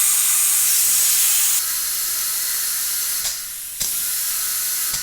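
Compressed air hisses loudly and steadily into a Farmall Super M tractor tire through a valve stem with the core removed, the stream dropping in level briefly before resuming.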